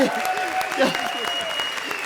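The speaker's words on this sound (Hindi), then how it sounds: "जोरदार ताली बजाइए" Studio audience applause on a Hindi comedy show, steady clapping running the full length under a host's loud voice and background music.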